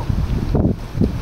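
Outdoor wind buffeting the microphone at a campfire cooking spot, a loud continuous low rumble with gusty swells and no clear talk.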